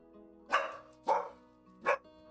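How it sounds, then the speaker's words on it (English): A dog barks three times in slow succession, loud and close, with short pauses between barks and no voices over them. "One second, that's my dog."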